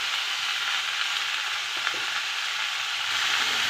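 Spices with salt and turmeric sizzle in hot oil in a pan and get stirred together for a rohu fish curry with winter vegetables. A steady, loud frying hiss carries on throughout with one faint stir in the middle.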